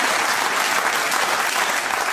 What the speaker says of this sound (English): I'd like to give a really big round of applause to Hugh and Blair